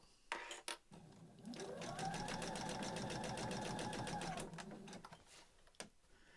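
A sewing machine stitches a side seam in fabric for a beginner's storage caddy, running steadily for about three seconds between brief handling knocks, close and clear.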